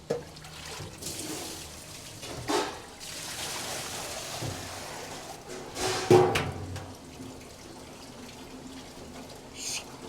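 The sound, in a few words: water draining from rinsed sushi rice through rice net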